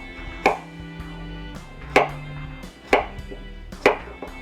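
A knife chopping through homegrown potatoes with the skin on for home fries, four sharp cuts against a board at roughly one-second intervals, close and distinct with quiet gaps between.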